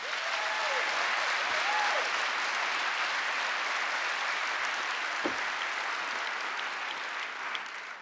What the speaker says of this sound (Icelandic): Gefum hann gott klapp.